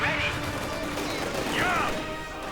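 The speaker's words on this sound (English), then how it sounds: "Nearby heavy mortar firing support." Heavy mortar and machine-gun fire crackle and thump through a World War II strategy game battle between Guards infantry and Panzer Grenadiers, dense continuous bursts with two sweeping whistles of incoming shells.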